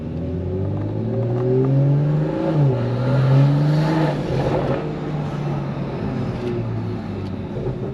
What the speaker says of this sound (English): I can hear the turbo now. The little whistle at the end, and the little spool out the exhaust.